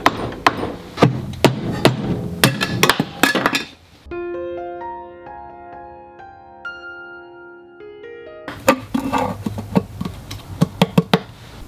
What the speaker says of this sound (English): Time to get the big wrench.